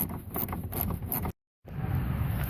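A hand ratchet clicks in quick bursts while loosening 10mm bolts under the hood of a Pontiac Vibe, close and fairly quiet, with a brief silent gap before the ratcheting resumes.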